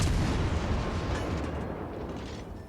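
Heavy naval guns firing in World of Warships Legends, aboard the Minotaur cruiser with rapid-reload guns, a thick rumbling blast of artillery that slowly decays, with no voices over it.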